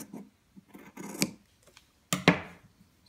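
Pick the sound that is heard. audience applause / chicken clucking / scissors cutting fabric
scissors cutting fabric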